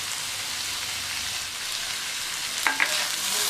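Cooked chow chow mixed with lightly crushed boiled chana dal is stirred in a pan, giving a steady soft sizzling hiss with a couple of brief scraping clinks near the end, no voices.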